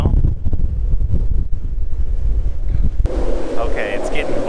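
Force 10 storm wind roars across the open sea around a boat in a heavy, gusting, continuous rush close to the microphone, with brief voices near the end.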